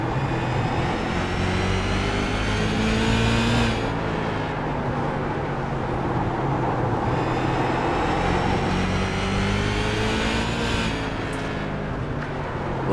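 A modified race car rolls through a turn at Irwindale Speedway, its engine droning steadily at close range with a slight dip and pitch change as it comes off the throttle and carries speed through the corner.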